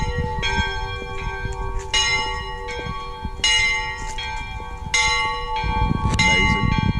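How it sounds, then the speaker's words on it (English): Church bells ringing on a Sunday morning, a series of clear metallic strikes at irregular intervals over a few seconds, fairly loud and ringing out, with low background noise and a brief rustle near the end. "we'll be hearing the church bells very, very soon"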